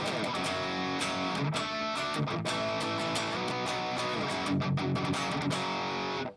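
Electric guitar with Fishman Fluence pickups played through a PV Triple X lead amp simulation with a Revolver cab, heavily distorted chugging riffs with sharp palm-muted stops and sustained chords, close and loud, ending abruptly.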